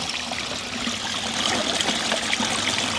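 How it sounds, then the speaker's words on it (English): A small stream in the Montagne Verte woods trickles along steadily and fairly close, a soft continuous babble of water with no voices. "And a nice little stream."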